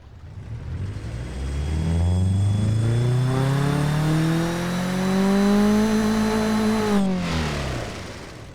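In the game Automation, a turbocharged car engine revs from idle up to a high, steady whine, holds there for several seconds, then drops sharply, with no other sound.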